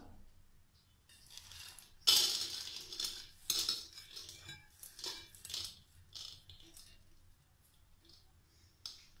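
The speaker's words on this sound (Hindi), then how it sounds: "तो एक प्रेशर कुकर लेंगे और इसमें हम डालेंगे दाल।" Dry lentils rattle and patter into a metal pressure cooker in bursts, crisp clinking pours with short pauses between them, close and fairly quiet.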